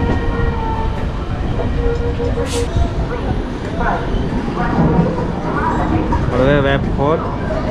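The Vikramashila Express running on Indian railway track: a steady loud rumble of wheels and carriages with rattling, squeals and voices inside the moving coach.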